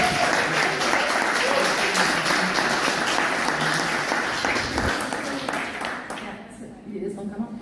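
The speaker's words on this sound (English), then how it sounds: "an applause, please." Dense audience applause at an open-stage classical music evening, steady and sustained for several seconds before thinning out near the end, with voices mixed into the crowd noise.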